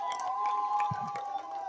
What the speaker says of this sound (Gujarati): ચીયર અપ કરો, ચીયર અપ કરો